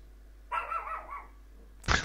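A dog barks at a window, giving one muffled, drawn-out bark at a distance, then a sharp louder burst right at the end over a low steady hum.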